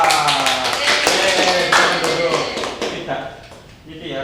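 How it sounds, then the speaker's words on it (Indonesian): Students in a Japanese-language micro-teaching class applaud a group, a burst of scattered hand claps that fades toward the end, mixed with overlapping voices talking. "Tepuk tangan dulu untuk kelompok 2"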